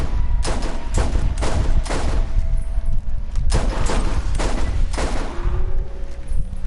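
Rapid sniper rifle fire from Borderlands, a quick run of loud, sharp shots in uneven bursts with short gaps, heard up close over a steady background game hum.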